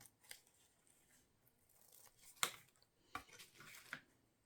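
Scissors cut across a book page, faint and close, with a few crisp snips and rustles spread through a quiet room.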